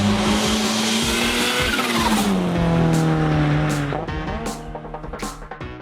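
A modified 2022 Subaru BRZ drives hard, its engine droning loudly and shifting pitch through the gears, with tire noise under it and the revs easing off toward the end, heard close and alone.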